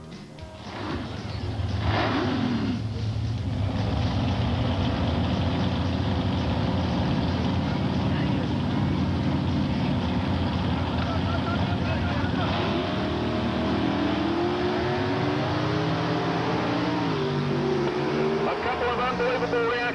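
Drag cars launch side by side down the strip, Tommy Bailey and Hector Garza in the Tough Enough Camaro matchup at a 1989 event, engines roaring loud and steady for the full run with shifting pitch sweeps. A commentator talks over the noise.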